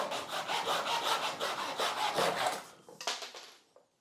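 A hand saw cuts through a scrap wood shelf piece in steady, loud back-and-forth strokes close by, then slows to a few rough final rasps and stops.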